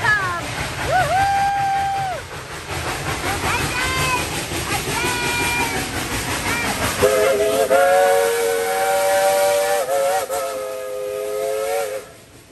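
Dollywood steam train passing close by, with repeated loud steam whistle blasts over the chuffing and rolling of the cars and excited voices and cheering from onlookers.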